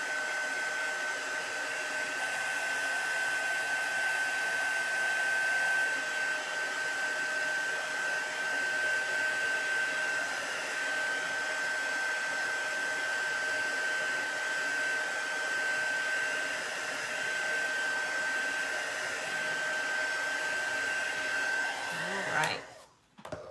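A hair dryer blows steadily and close for over twenty seconds, drying chalk paste on a pallet board, its constant whirring hum with a thin high whine before it clicks off at the end.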